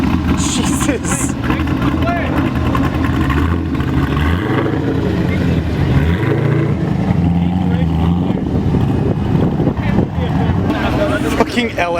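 A Mazda Miata with a swapped LS V8 rumbles loudly at a Dallas night car meet, a steady deep engine drone under crowd noise and people talking throughout.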